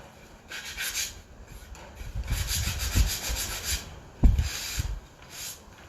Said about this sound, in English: I'm done sanding my boards